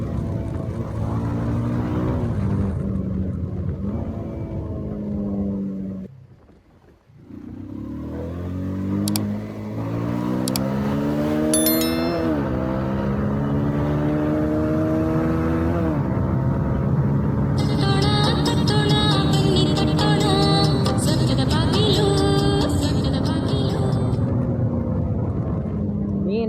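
A Bajaj Pulsar 220F BS3 motorcycle accelerating on a ride, its engine climbing loudly through the gears in long rising sweeps, with a brief drop near the middle before it pulls hard again, close and continuous.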